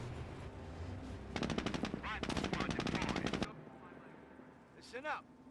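MG42 machine gun fire in the Company of Heroes game, two rapid rattling bursts of a couple of seconds each, fairly loud, with a low battle rumble underneath and a short voiced sound afterward.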